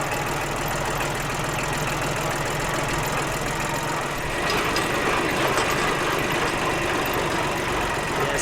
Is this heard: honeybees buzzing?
no